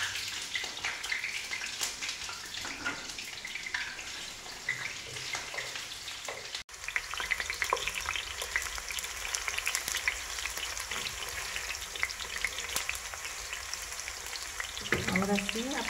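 Onion fries in a pan for a chicken and fresh vegetable stew. A continuous close sizzle crackles with stirring noises, broken by one brief dip partway through before the frying carries on.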